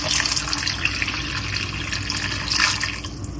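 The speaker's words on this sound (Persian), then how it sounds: "1 لیوان پر آب جوش اضافه میکنم." A cup of boiling water is poured into a cooking pot of meat with garlic, a cinnamon stick and cumin, giving a steady, close, hissy splash of running liquid for about three seconds.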